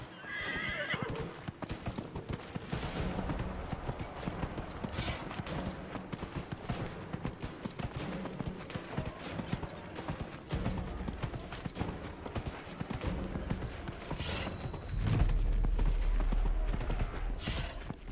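In Dragon Age Inquisition, a mounted horse clip-clops steadily through a race, hoofbeats running continuously under game music and ambience, with a louder thump near the end.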